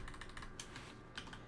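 Code typed on a computer keyboard: a quick, close run of key clicks, a short pause, then a few more taps, over a low room hum.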